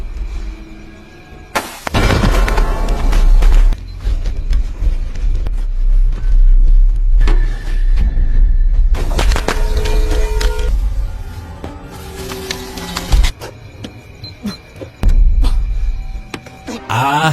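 Firecrackers burst in a film scene, loud sharp cracks scattered across a rumbling, noisy soundtrack with several dense clusters of explosions and quieter gaps between.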